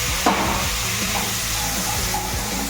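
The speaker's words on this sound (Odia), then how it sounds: "ଏବେ ଟମାଟୋ ଭଲ ଭାବେ ତାକୁ ଫ୍ରାଏ କରିଦେବା" Tomatoes added to golden fried onions in a pan sizzle steadily, with a constant frying hiss and faint stirring scrapes throughout, and no talking.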